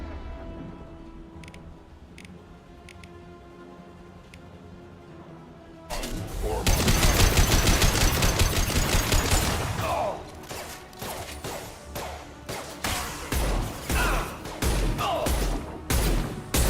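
Heavy sustained gunfire erupts in a video game battle after a quieter opening, with dense overlapping shots and bursts that continue loud and close through the rest.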